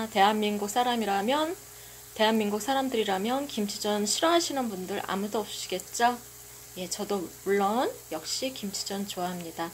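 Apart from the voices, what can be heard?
kimchi pancake sizzling in a frying pan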